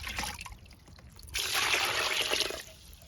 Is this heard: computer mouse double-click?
no